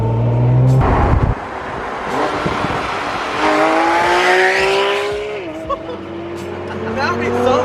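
Cars tearing around a JDM car meet, engines revving hard and rising in pitch with tire squeal and skidding, loud and close, while people talk excitedly nearby.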